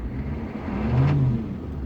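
A 6.5 diesel engine surges on its own, its steady mid-range hum rising briefly in pitch and loudness near the middle before settling back, with no throttle input and no talking.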